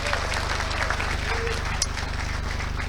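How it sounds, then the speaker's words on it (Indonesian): An audience at a motivational training session claps throughout, a busy spread of hands over a steady low mechanical hum, with voices mixed in among the clapping. "Tepuk tangan untuk kita semuanya."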